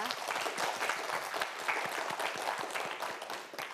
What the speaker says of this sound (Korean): 우리 두 학생을 위해서도 응원의 박수 한번 부탁드립니다.